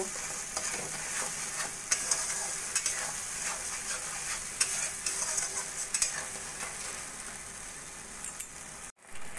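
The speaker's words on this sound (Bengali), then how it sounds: "দিয়ে মশলাটা আমি ভালো করে কষিয়ে নেব।" Spice paste with salt frying in a pan for a Bengali doi katla fish curry, a steady soft sizzle throughout with light scraping taps of a spatula stirring at intervals.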